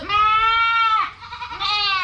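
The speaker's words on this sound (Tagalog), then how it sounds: "Nandun na kambing mo." A goat bleats loudly and close, two long wavering calls in a row over a low rural background hum.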